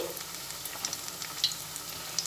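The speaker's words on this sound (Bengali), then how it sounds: "ভেতরের অংশটা আস্তে আস্তে করে ভাজা হচ্ছে" Vegetable rice pakoras frying in oil over a low flame, giving a soft, even bubbling sizzle with faint crackles and pops throughout.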